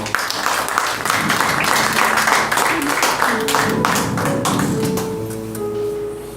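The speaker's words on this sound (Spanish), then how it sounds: "Dale un aplauso al Señor." Congregation applauding at a Spanish-language evangelical church service, a dense wash of many hands clapping steadily throughout, with voices and music-like tones rising underneath toward the end.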